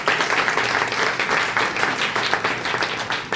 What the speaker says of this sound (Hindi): तो सब तालियों के एक बार स्वागत करेंगे